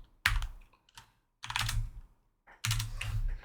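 Computer keyboard typing comes in three short bursts of rapid, close key clacks separated by brief silences, with no voice over them.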